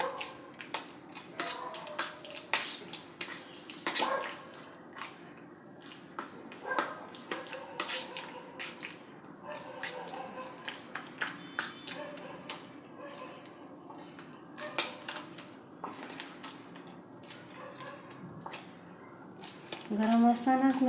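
Cooked chana dal for a puran poli filling is mashed by hand in a pot while hot, giving soft wet squishing and tapping sounds in irregular bursts, close and moderately loud.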